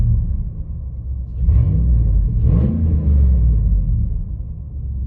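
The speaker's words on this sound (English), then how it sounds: "So now we'll give it a few more revs." A RAM 1500 Hemi V8 with its exhaust cutout open revs up in a couple of deep swells, a loud, throaty low rumble that rises and falls while idling between blips.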